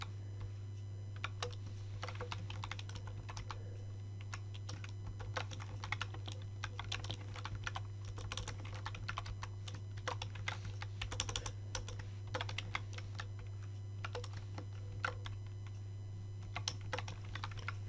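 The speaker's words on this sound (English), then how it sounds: "typing." Someone types steadily on a computer keyboard, quick irregular key clicks in bursts and pauses over a constant low electrical hum, with no talking.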